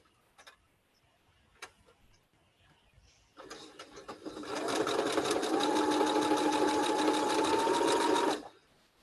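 A sewing machine stitches down a quilt edge, starting after a few quiet clicks and running in a steady, fast, even whir for about five seconds before stopping, close and fairly loud.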